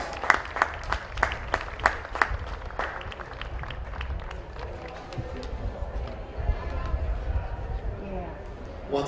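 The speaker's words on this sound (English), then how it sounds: "Let's give both teams a round of applause." Audience at a polo match at The Villages Polo Club: a burst of brisk clapping for both teams that thins out after a few seconds, with crowd voices underneath.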